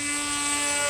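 Engine of a radio-controlled model airplane held at half throttle, giving a steady continuous drone with fixed harmonic tones, fairly loud and unbroken for the full second, no voices.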